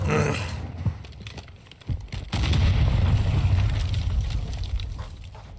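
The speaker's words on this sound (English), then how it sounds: "Throw a grenade." A grenade blows up in a multiplayer shooter game, a sudden deep boom that swells into a loud rumbling roar lasting several seconds after brief muffled thumps and a short silence.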